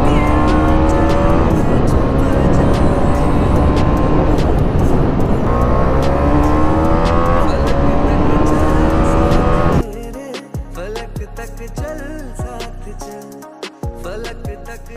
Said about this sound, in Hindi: अब इसको मैं टेस्ट राइड करने जा रहा हूँ।